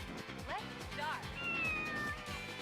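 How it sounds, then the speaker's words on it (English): Several cartoonish cat meows from the 2006 arcade racing game OutRun 2006: Coast 2 Coast, rising and falling over a busy game soundtrack, with someone talking over them. "That's a cat."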